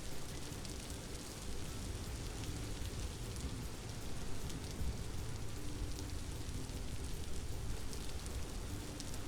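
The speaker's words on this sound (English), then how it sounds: "the rain is almost as loud as I am" Rain falls steadily in the survival game Vintage Story, a dense, continuous wash of drops at constant loudness with no breaks.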